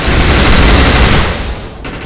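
Gunfire from the shooter Defiance roars as a loud, dense burst of rapid shots, continuous and close, cutting off abruptly near the end.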